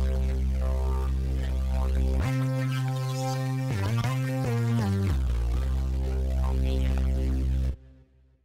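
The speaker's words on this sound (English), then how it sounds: "what I created was a bass patch that sounds like this." Synth bass patch built from a blend of a voice sample and a classic Juno sample with an added sub note, playing a deep, sustained bassline of held notes with a short rhythmic run in the middle, ending in a sudden stop.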